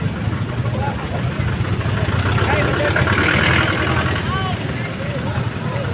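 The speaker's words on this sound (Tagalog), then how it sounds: "So muna ang mga motor nga nangabilin pa." Motorcycle engines idle at a legal drag race, a steady mid-range rumble with faint revving swells, under crowd chatter and talking voices.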